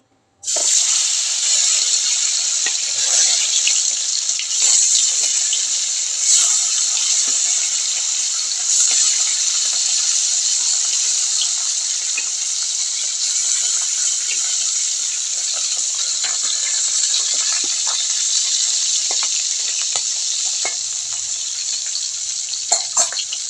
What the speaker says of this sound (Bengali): সাদা তেল দিয়ে ভেজে নিব মাছগুলো। এখন আমি মাছগুলো দিয়ে দিচ্ছি।